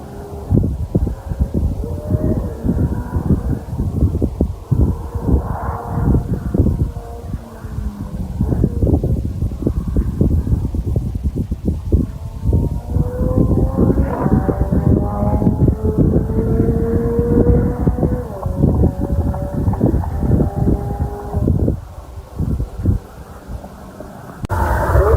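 A Corvette C8 Z06 runs on track with a loud, continuous engine note, pitch rising and falling through gear changes as it accelerates and shifts repeatedly.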